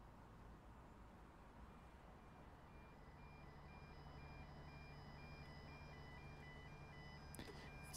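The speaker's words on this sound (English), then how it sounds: "Sounds like a very modern beeper, doesn't it?" A faint, steady electronic warning beeper in the video game Train Sim World 2 repeats in an even rhythm over a low hum, quiet and distant, ending with a short clatter.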